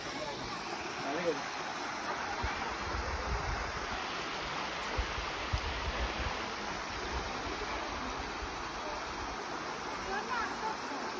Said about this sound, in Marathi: पूर्ण धबधबा भरलेला असतो बघ